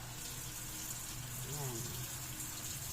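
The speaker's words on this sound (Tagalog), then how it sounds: "Lagyan natin guys ng sabaw." Broth pours and splashes into a pot of pork sinigang, a faint, continuous gush lasting a few seconds over broad background hiss.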